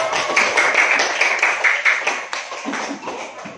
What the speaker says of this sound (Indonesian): Bang, aplaus untuk kelompok 2 silakan.